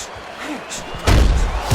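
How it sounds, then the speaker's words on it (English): Heavy punches thud in a Muhammad Ali boxing video game on Xbox 360, a loud low impact near the middle followed by a second thump at the end, with faint background sounds and no clear talk. "The combination punching now scoring well by Muhammad Ali"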